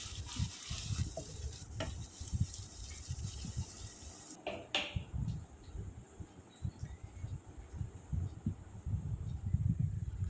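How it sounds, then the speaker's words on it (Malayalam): Sliced onions frying in oil, a faint bubbling sizzle broken by repeated low stirring thumps and scrapes throughout. "അടുത്ത ബാച്ചും കൂടി ഇട്ട് ഇതേപോലെ തന്നെ വറുത്തെടുത്ത് മാറ്റി വെക്കണം"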